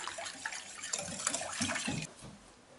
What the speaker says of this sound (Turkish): 2 su bardağı ılık su. Karıştıralım mayamız erisin.